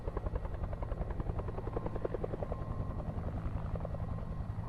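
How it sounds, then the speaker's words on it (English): A helicopter in Alpha Polaris thuds overhead with a rapid, steady rotor chop over a deep engine drone, loud and close for the whole stretch with no voices. "Sounds like a chopper."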